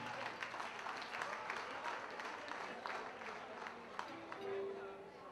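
An audience applauds at a music album presentation, a dense patter of many hands clapping heard faintly from a distance, continuing steadily with a voice briefly audible over it.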